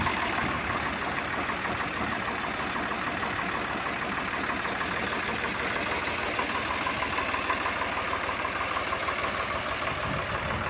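A 2005 Swaraj 855 tractor engine idles throughout, a continuous low rumble with a constant mechanical churn, fairly close and unchanging.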